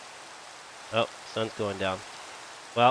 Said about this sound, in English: It's raining, and I don't really like messing with the rain